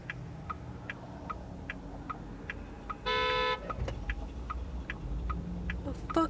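A car horn gives one flat, sustained honk of about half a second in traffic, heard over a steady ticking like a turn signal and low engine rumble.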